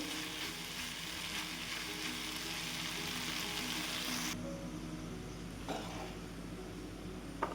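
Masala vegetable sweet corn is stirred in a pan, giving a steady, faint sizzle under a constant background hiss, with occasional soft scrapes and one small clink near the end.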